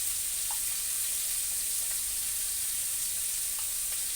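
Shrimp with salt and turmeric fry in hot oil, producing a constant, even hiss of sizzling with a couple of faint ticks, close and steady throughout without speech.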